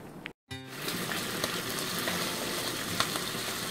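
Opah fish sizzling in a hot frying pan, a steady crackling hiss with small pops, after a brief silent gap at the start.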